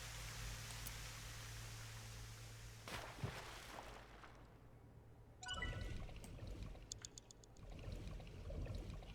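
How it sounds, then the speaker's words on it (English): A video game character plunging into water, heard as a soft pour and trickle of liquid, then a quieter pause and a sharper splashy burst with continued watery movement. "Throw yourself in the water!"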